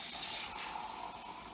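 Tap water running into a glass for a tea experiment, a steady close hiss of pouring liquid lasting under two seconds with no talking.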